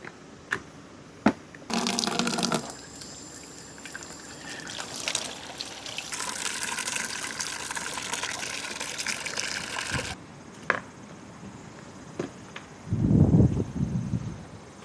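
Water from a hose at a Japanese self-service car wash fills a container during the detailing of a BMW F10, coming in intermittent rushing bursts of moderate loudness with quieter trickling between them, with no voices.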